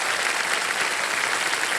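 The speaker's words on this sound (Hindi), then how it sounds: "यहाँ पर तालियों के साथ इनका स्वागत करते हैं" A studio audience on a TV quiz show breaks into continuous, even applause to welcome a contestant, a thick wash of many hands clapping at once.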